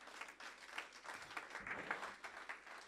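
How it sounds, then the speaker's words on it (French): A church congregation applauds for the Lord, a steady wash of many hands clapping together, fairly distant and moderately quiet, sustained without a break. "Est-ce qu'on peut acclamer pour le Seigneur?"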